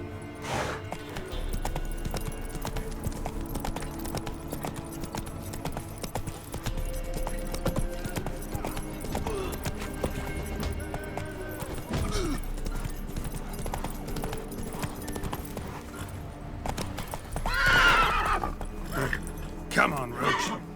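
Roach, the horse in The Witcher 3, gallops with steady rhythmic hoofbeats and lets out a neigh near the end, mixed with game ambience and intermittent speech.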